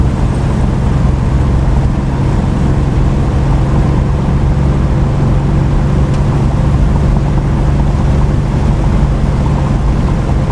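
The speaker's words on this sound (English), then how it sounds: "We're doing 60 miles an hour right now," A 1967 Ford Mustang convertible cruising at 60 mph, a loud, constant rumble of engine and road and wind noise with a steady low hum and no talking.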